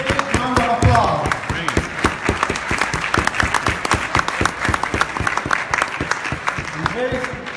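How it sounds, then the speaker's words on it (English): Audience at a fundraising dinner breaks into sustained, dense applause that fills the room, with a voice speaking over the clapping near the start and again near the end. "And give him a big round of applause."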